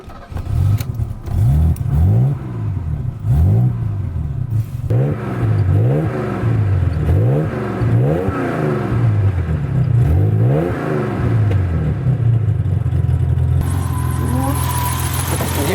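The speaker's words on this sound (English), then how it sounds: "let's start up the engine so you guys can hear what this car is about" A BMW E28 528 with the 2.8-liter M30 inline-six engine starts and revs repeatedly, loud and close, rising and falling in a steady rhythm before settling into idle, with no voices.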